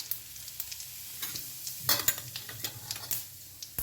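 Mustard seeds and cumin crackle and sizzle in hot oil for a tempering for a homemade tindora (ivy gourd) curry, with a steady close hiss and scattered sharp pops and crackles; no talking.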